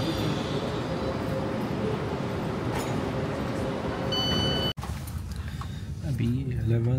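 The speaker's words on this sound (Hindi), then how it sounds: "अभी 11:34 हुए हैं और एग्जैक्टली द सेम टाइम पे ट्रेन चल पड़ी है।" A train pulling away from a station on a Rhine Falls trip in Switzerland: a steady, dense rumble of rolling wagons fills the recording, broken by a sharp click, then a quieter rail hum with a voice talking over it near the end.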